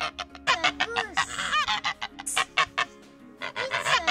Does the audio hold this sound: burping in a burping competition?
no